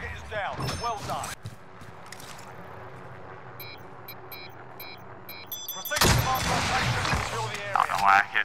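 Bursts of video game gunfire, including shotgun blasts, crackle at the start and return loudly near the end, with players talking over the shooting and a quieter stretch of game ambience between.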